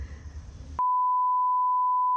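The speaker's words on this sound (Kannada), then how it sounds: "Okay beep ಮಾಡ್ಕೊಳಪ್ಪ." Loud, steady censor beep: a single continuous pure tone that begins abruptly after a brief burst of background noise and holds unchanged to the end, with no talk over it.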